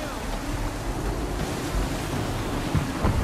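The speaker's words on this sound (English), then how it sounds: "Heavy gust, Captain! Hard counter!" Heavy wind gusting over the sea in the video game Assassin's Creed III, a steady broadband roar with surf-like wash that swells slightly toward the end, with no clear speech.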